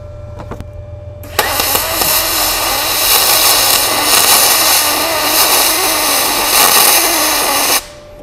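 An Arc Captain MIG 200 welder lays a bead with 13 on the wire speed: a loud, steady crackling hiss starts abruptly, holds for about six seconds, then cuts off cleanly.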